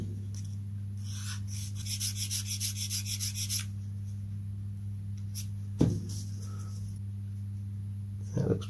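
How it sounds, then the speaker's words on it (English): A wooden edge on a rubber-powered model plane is worked by hand with sandpaper and a square file, giving a rhythmic series of close rasping strokes followed by a sharp knock and a few scrapes, quiet overall with no talking. "I've sanded the angle on this edge, and I've also used the square file just to sand a diamond"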